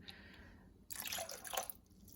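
Tap water runs briefly while a tomato tin is rinsed out in a home kitchen, a faint splashing gush that starts after a quiet moment and stops short, close by with no talking.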